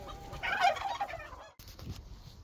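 Farm turkeys gobble in a short, rattling burst, followed by a faint second call, outdoors in snowy early-winter conditions.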